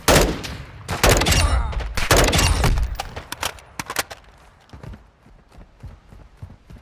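Sniper fire in the Modern Warfare II video game: several loud, close, broadband gunshot blasts in quick succession, then scattered fainter impacts and clatter trailing off.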